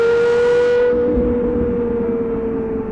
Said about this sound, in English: The sound that you hear and the exhaust, which was tuned in partnership with Yamaha